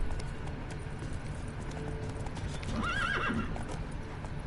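Rhythmic hoofbeats clip-clop steadily while a horse lets out a wavering neigh partway through, with faint game-like ambience behind, from the video game The Witcher 3: Wild Hunt.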